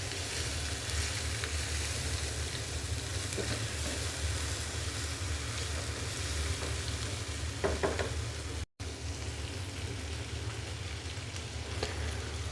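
Turmeric, chili and coriander powders with vegetable stock sizzle in a pan while being stirred, a steady close frying hiss with occasional spoon scrapes and one short dropout, no voices.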